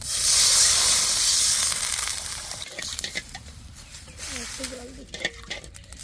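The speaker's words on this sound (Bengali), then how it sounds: "লঙ্কা রসুন আর আদা মাখানো হয়ে গেছে এবার জল দিয়ে দেবো" Water is poured into a hot pan of small fish coated in chilli, garlic and ginger, giving a loud, close hiss that eases into softer bubbling and spatter. A voice speaks over it.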